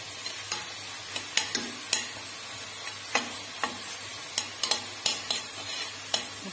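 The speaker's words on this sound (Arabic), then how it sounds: "صافي نسحر هاد البصله مزيان." Chopped onion frying in a pan for a rice dish, a steady sizzle broken by a regular series of sharp scraping clicks as a spoon stirs it, close and fairly loud, with no talking.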